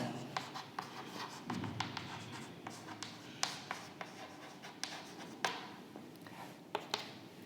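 A pen scratches out calculus formulas on paper, a steady run of quick strokes and taps with small ticks and pauses between marks, close and clear with no talking.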